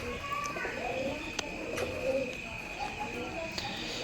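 Pigeons coo softly and repeatedly inside Lal-da's loft of tile-patterned racing pigeons being readied for a summer flying tournament in Murshidabad, low rolling calls layered over steady background hiss with a few sharp clicks.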